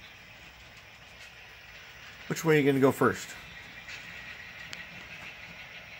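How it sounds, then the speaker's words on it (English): A small model train rumbles and clicks steadily along its track while someone briefly speaks over it. "Okay, we're going to demonstrate the three-way switch. We have a train coming."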